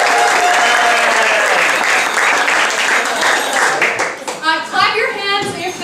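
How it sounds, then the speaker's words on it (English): An improv-show audience at a holiday pageant bursts into loud, dense applause that rings out and then tapers off near the end, with a few voices breaking through as it fades. "So, clap your hands if you have ever been to a That Racket show before."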